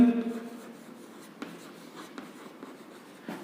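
Pen writing a geometry definition by hand on paper, soft scratchy strokes with a few light taps, close and quiet, no talk over it.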